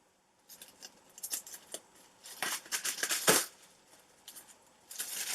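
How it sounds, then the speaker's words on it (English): Scissors snipping through crinkly plastic packaging of a beauty products order nearby, a series of sharp cuts with rustling, one louder crunch in the middle. "I'm going to just cut through this, again with my trusty scissors."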